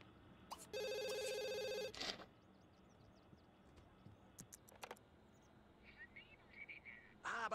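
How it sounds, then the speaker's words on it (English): Telephone ringing in The Sims 2, a bright electronic trill that sounds for about a second, followed by scattered game clicks and soft chirps at a low level. "Your phone is ringing."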